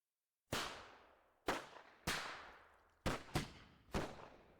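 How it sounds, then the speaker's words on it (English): Sharp firework bangs in a video game crowd scene, six separate cracks with decaying tails, one quick double pop near the middle, loud and fairly close with no talk over them. "Going to assume those are fireworks and not someone firing in a crowd."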